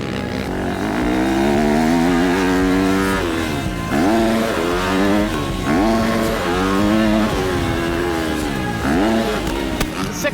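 A motocross dirt bike engine revs hard and continuously, rising and falling through repeated gear pulls and throttle surges, loud and close for the whole stretch, with no talk over it.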